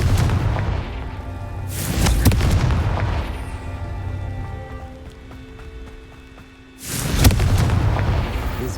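Confringo fire spell explosions in Hogwarts Legacy: two loud, booming blasts with rumbling tails separated by a long stretch of ringing, tonal game ambience.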